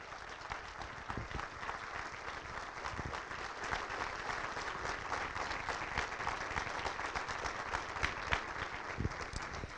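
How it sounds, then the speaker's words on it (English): Continuous applause from an audience at a college presidents panel, a dense wash of many hands clapping at moderate distance, steady for about ten seconds and fairly quiet. "Please give them another round of applause."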